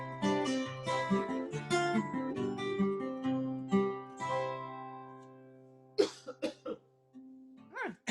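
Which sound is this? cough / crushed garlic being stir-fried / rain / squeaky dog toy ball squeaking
cough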